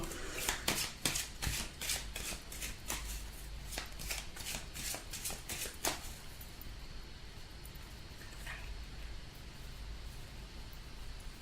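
A tarot card is drawn from the deck and turned over with quick crisp shuffling flicks and taps close by, dense at first, then thinning into quiet handling.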